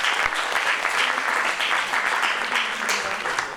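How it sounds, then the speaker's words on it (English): A seated audience at an MRVP presentation breaks into sustained applause, a dense, steady wash of many hands clapping together at a fairly loud level throughout, with no one speaking over it. "Please give them a big round of applause for everything that they did"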